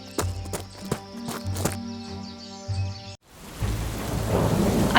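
A heavy rain and thunder effect in a Hindi ghost story: rumbling thunder and pounding rain mixed with clip-clop beats, then a brief gap before a hissing downpour rises, with no voices.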